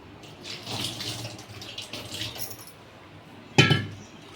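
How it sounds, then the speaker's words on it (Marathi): Ginger rinsed under a running kitchen tap, a soft steady water flow with a sharper splash and clink near the end. "आपल्याला अद्रक लागेल छान धुवून घेते आपण"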